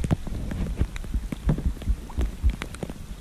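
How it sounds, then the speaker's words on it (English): Rain falls during a crappie fishing outing, steady patter with irregular louder drops striking nearby surfaces close up, no voices over it. "Oh rainy day."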